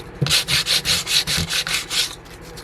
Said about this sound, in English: I'm going to sand it a little bit too